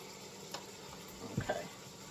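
Meat, onions and peppers go into a pot of beans for a chili made with beef stew meat, giving a brief, soft sizzling and stirring rustle up close, with no talking.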